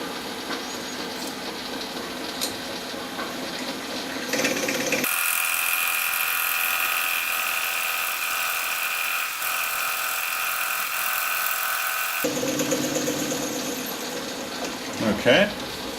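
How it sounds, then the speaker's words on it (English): A lathe drills a bore in metal, giving a steady high-pitched machine whine for several seconds, flanked by quieter workshop sounds and brief clatter before and after. "that's the drilling"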